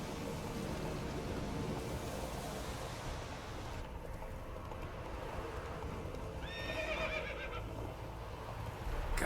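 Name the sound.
horse neighing, from the video game The Witcher 3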